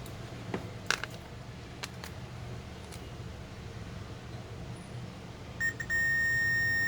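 A multimeter beeps during a continuity test on a Lenovo ThinkPad T420 laptop motherboard, with a steady electronic tone sounding near the end over a quiet room hum, preceded by a few faint clicks.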